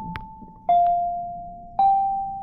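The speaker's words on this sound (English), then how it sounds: "that's the bell" A school bell chime sounds in a classroom during an algebra lesson: an electronic tone sequence of a brief faint note followed by two louder sustained tones, each ringing out and decaying, with no talk.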